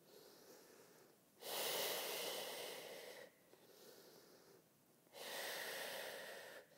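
Slow, deliberate breaths during a pelvic tilt birth-prep exercise: two long, close, airy inhale-exhale cycles with quiet pauses between, no talking.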